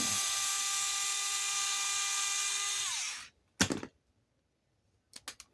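Screws are backed out of the diff cover on an Rlaarlo X12s RC car with a power driver. A high, whining motor runs steadily for about three seconds, then spins down, followed by a few sharp clicks of handling.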